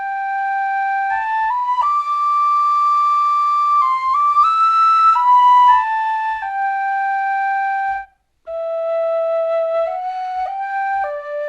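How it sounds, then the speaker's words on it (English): Thai Kuli flute in C from the Sangara sample library by Orchestral Tools, playing a dry, breathy melody of sustained and sliding tones with one brief silent break, alone and fairly loud. "we're going to start off with the Thai Kuli in C."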